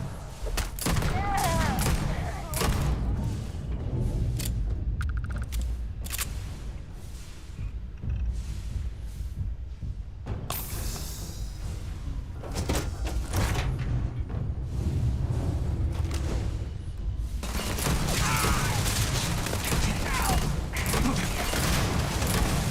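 Repeated gunfire bursts in zero-gravity combat in Starfield, dense and fairly loud through most of the stretch, mixed with mechanical creaks and booms, with talk over parts of it.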